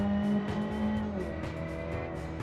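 Engine revving hard under full throttle in a BeamNG car racing down a mountain pass, a steady loud drone with rising harmonics and some faint tire noise, no talk.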